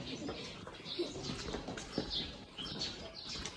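Birds at a large zoo in the Philippines give faint coos and chirps with some wing flapping, set against a murmur of nearby visitors talking.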